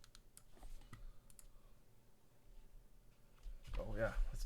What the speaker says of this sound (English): Let's do a little typing test.